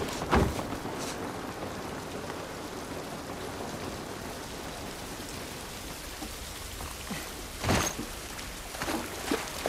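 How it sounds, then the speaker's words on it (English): Steady rain pours down in the video game The Last of Us Part I, a dense continuous hiss of drops on surfaces with a couple of brief louder splashes or knocks partway through, no voices. "This rain ain't gonna do us any good."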